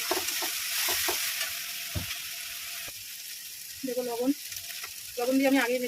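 A chilli and spice paste of cumin with dried and green chillies sautéing for crab curry makes a soft sizzle broken by stirring scrapes, while a voice speaks intermittently over it.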